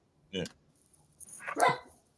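A pet dog named Freddie barks in two loud bursts close by, one short and one longer, with no speech between them.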